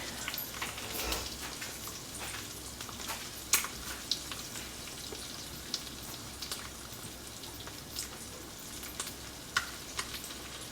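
Eggs sizzle steadily in a frying pan, a soft continuous crackle with occasional sharper pops, heard alone without talk.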